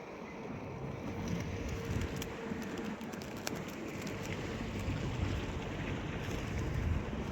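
A boat moves across a lake in Ooty, giving a low steady rumble of water and motor mixed with wind buffeting the microphone, continuous and fairly faint, with no speech.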